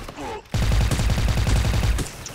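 An AK rifle fires in a video game in a rapid, even burst of about a dozen close, loud shots after a short pause, with a voice talking just before.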